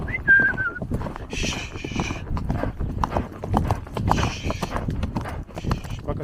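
Horse hooves clip-clop in a steady rhythm while the rider heads uphill, close and clear, with occasional whinny-like and whistled tones and a rider talking over the hoofbeats.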